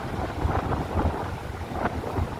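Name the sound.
strong wind blowing on a seaside pier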